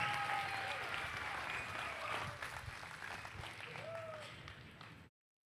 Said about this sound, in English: Let's give these kiddos and these exhibitors one more big round of applause.